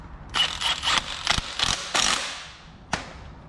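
A part on a Miata being tightened by hand tool, a run of quick close ratcheting clicks in short bursts, then a pause and one last sharp click.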